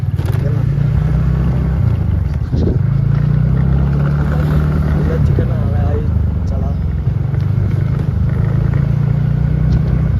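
A vehicle engine drones steadily and loudly along a village road, a low continuous hum heard from inside the moving vehicle, with voices talking over it.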